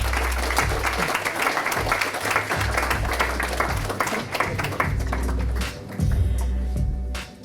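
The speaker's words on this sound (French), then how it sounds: "Vous pouvez l'applaudir." An audience at a French content-industry awards ceremony applauds as a presenter is called up, clapping spread across the room over a low music bed, briefly dipping and resuming.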